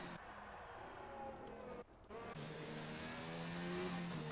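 A pace car circuits Marina Bay in Singapore in a racing video game, its engine droning steadily and then revving higher with rising pitch, interrupted by a brief dip before resuming; it sounds close and continuous.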